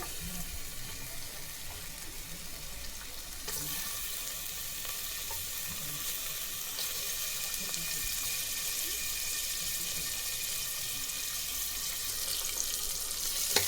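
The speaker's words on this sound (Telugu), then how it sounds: "ఆనియన్ ఫ్రై చేసుకుంటాము" Chopped onion fries in an oiled pan for mutton sambar, giving a steady, hissing sizzle throughout that grows brighter partway in and stays close and continuous with no talk.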